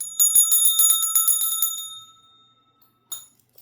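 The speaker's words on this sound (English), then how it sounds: "let's ring the bell." A small bell is rung rapidly with bright, high metallic tinkles for about two seconds, fading out, followed by one brief ring.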